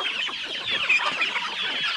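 Native chickens clucking nearby during a harvest for a fiesta: a busy flurry of short, overlapping clucks and squawks from several birds, fairly close and continuous, with no talking.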